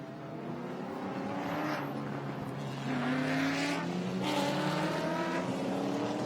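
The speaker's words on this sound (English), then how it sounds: "as we see the cars coming down here through turn number 9 and 9A" Several race cars in a GTS race at Sonoma Raceway sweep through turns 9 and 9A, their engines roaring loud and continuous with a rising surge midway, no voices.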